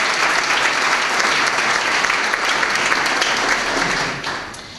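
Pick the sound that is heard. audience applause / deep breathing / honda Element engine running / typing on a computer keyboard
audience applause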